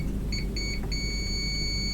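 A multimeter in continuity mode beeps while transistors or double diodes are probed on an electronics board: two short tones, a pause, another brief tone, then a sustained steady beep, clear over a low background hum.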